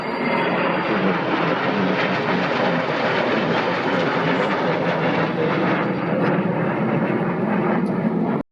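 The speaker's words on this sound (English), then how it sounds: "And the C-17, enormous C-17 Globemaster." A huge C-17 Globemaster military transport aircraft at an airshow produces a loud, steady, broadband jet engine roar that fills the whole stretch without letup, with no talk heard over it.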